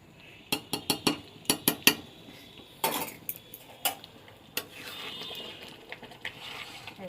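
A metal spoon clinks sharply against a pan while stirring butter into tarka, a quick run of bright taps followed by scattered clinks and a soft scraping stir near the end, with no talking.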